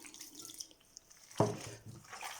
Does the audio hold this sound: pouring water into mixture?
yes